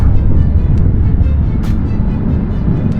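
An Aprilia Tuareg 660 motorcycle engine growls deeply and steadily up close under acceleration, a low rumbling throb that holds strong throughout.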